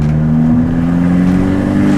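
Abarth 595 Competizione four-cylinder engine holds a loud, steady rev with a rasping exhaust drone, heard close from inside the car with no talking.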